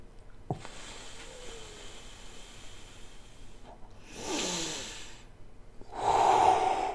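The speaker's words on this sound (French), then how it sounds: "on respire, on tient la contraction," Slow, deep breaths during a meditative breathwork exercise, two long airy exhalations rising near the end, close and fairly quiet with no talking.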